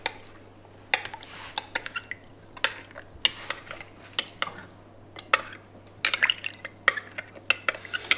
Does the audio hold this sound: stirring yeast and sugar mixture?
yes